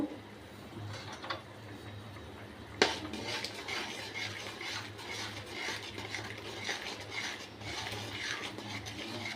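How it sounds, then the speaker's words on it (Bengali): Jaggery stirred into pointed gourd (parwal) gravy in a pan, a steady scraping and clinking of a spoon against the metal over a continuous simmering hiss, with one sharp knock near the start. "মিশিয়ে দিচ্ছে গুড়টা"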